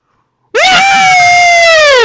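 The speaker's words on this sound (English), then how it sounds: "Can I scream louder on this thing?" A person screams into a headset microphone as a test, one long, loud, sustained shriek that starts abruptly after a brief silence and holds its pitch before slowly falling.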